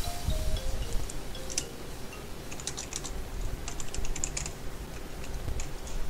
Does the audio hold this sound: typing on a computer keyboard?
yes